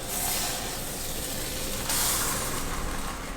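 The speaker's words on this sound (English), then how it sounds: "As you can hear the sizzle of our American meal here." A steady, broad hissing sizzle like food frying in a hot pan while making enchiladas, loud and close, swelling briefly partway through.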